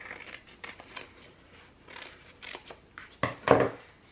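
Scissors cutting paper for an Erin Condren Life Planner, a series of quiet, close crisp snips and slides with pauses between them and a sharper pair of cuts at the end.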